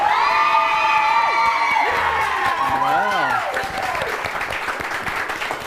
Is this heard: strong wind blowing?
no